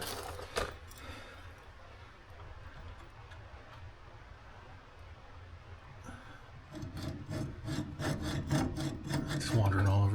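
Hand sawing through a brake line on a 2006 Chevy Silverado using a Sawzall blade held by hand: quiet, irregular rasping strokes that grow louder and more rhythmic toward the end, with faint background noise.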